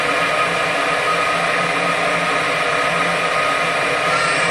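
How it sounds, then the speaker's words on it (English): Furnace burner running after the pilot light ignites, a continuous steady broadband roar with faint tonal hum, loud and unchanging throughout. "there's pilot light going there"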